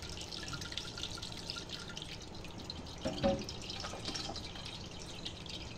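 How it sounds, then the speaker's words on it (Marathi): A quiet, steady trickle of starchy wheat water runs through a strainer, with a faint splash midway and soft drips throughout. "ह्या चाळणीत हे चिकाचं पाणी ओतते मी"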